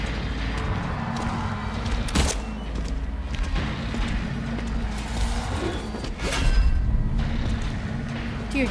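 Gunfire in Silent Hill 2 Remake: a few sharp shots crack out at intervals over a dense, loud, rumbling game soundscape, with one heavier burst near the end and no talk.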